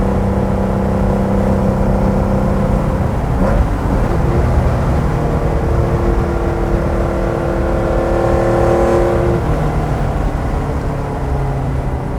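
A 1970 Porsche 914-6 GT engine hums and whirs steadily at moderate revs around 4,500 RPM while warming up, close and continuous, with rising and falling pitch as it drives.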